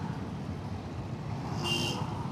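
Steady road traffic in a congested jam, with a tanker stopped to water roadside trees causing a 3 km backup; a continuous low rumble of idling and creeping engines, moderately close, with a brief brighter hiss near the end.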